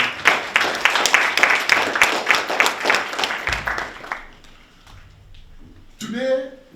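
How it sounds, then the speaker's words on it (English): A university lecture audience at Howard University gives a round of applause, dense clapping for about four seconds that fades out before a voice speaks. "Please give me a round of applause"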